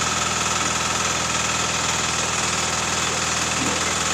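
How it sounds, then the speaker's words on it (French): A GBU 30L drilling machine idles with a loud, steady, rhythmic engine throb and a constant dense rumble, close and unbroken for the whole span. "On vient de finir le test du GBI 30L qu'on peut maintenant éteindre la machine en remontant juste la vitesse."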